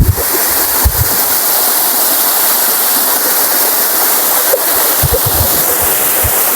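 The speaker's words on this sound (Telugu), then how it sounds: "చూడండి జలపాతం" A flood-swollen waterfall near Godavarikhani rushes in a loud, continuous roar close by, with a few low thumps of handling or wind and no voices.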